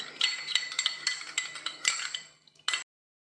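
A spoon stirs a carrot juice mixture in a bowl, a quick series of light metallic clinks and scrapes in an uneven rhythm, close and soft, ending abruptly in silence.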